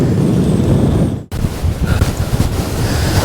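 Strong, roaring wind buffets the microphone on a fell summit in the Lake District. It cuts out for an instant, then the dense gusting returns, loud and close, with no talk.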